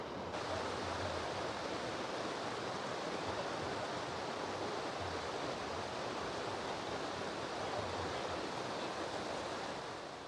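Heavy water pours steadily over the spillway of the Poço Verde reservoir after recent filling, a loud, continuous broadband rush with no break and no voices.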